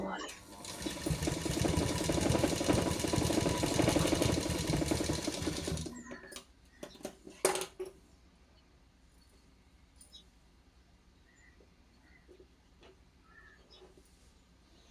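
A sewing machine stitches baby frock cloth in a fast, loud, steady run for about six seconds, then stops, leaving scattered clicks and handling taps at low level.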